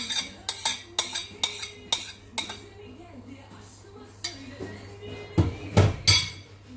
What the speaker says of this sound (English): I'm gonna mix it all together so the butter will melt